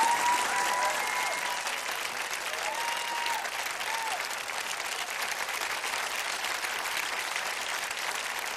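Audience applause for a singer at a live music show, a steady wash of many hands clapping with a few whistles heard near the start, sustained at an even level.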